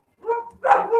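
Dogs give two short, close barks or yips in quick succession, fairly loud and alone, with no talk over them.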